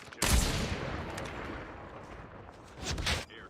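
Gunfire in Call of Duty Mobile during a sniping exchange: a sharp loud shot with a long decaying tail, then a second cluster of shots near the end, with no talk over it.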